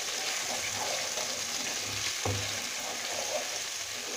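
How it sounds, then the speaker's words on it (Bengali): Bay leaves, cloves and garam masala frying in hot oil give a steady close sizzle, with one sharp stirring scrape partway through and no voices. "একটু নেড়ে 1-2 মিনিট গরম মশলাটাকে ভেজে নিতে হবে"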